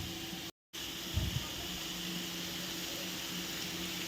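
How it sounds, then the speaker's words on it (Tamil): Beetroot sautéing in oil in a pan, a steady close hiss with faint sizzle throughout, briefly cut out near the start, with a soft clatter of stirring partway through. "இப்போ எண்ணெயில் எல்லாமே படுற மாதிரி நம்ம வந்து வதக்கி விட்டாச்சு இந்த பீட்ரூட்டை"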